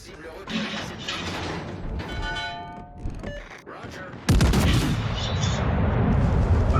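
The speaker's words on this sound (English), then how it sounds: "ships in the harbor try to pin down the militia with cannon fire" Warships in a harbour fire cannons during a battle: a sudden loud boom lands midway, then a sustained rumbling roar. Softer thuds and a voice come before it.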